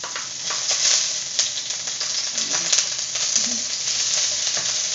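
Onion and garlic fry in hot oil in a pan, a close, constant crackling sizzle with scattered pops and light stirring throughout.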